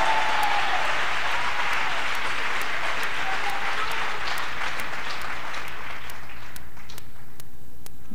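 An audience at a testimony talk claps together, starting dense and loud and then thinning into scattered claps toward the end, with no talk over it.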